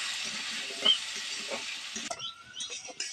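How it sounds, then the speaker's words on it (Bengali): Potatoes seasoned with salt and turmeric fry lightly in a pan. A steady sizzle runs for about two seconds, then eases into softer crackles with a few light stirring clinks. "আলুটাকে একটু হালকা করে ভেজে নেবো।"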